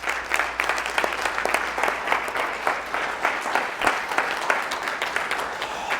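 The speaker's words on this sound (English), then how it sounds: "Give them a big round of applause." An audience at a workshop opening applauds the organizing team, steady moderately loud clapping from many hands lasting about six seconds with individual claps standing out.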